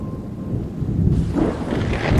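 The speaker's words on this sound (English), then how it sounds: "The rain started to pour heavily, and the thunder began to roar." Heavy rain pours steadily while low thunder rumbles through it, the downpour growing louder and brighter toward the end.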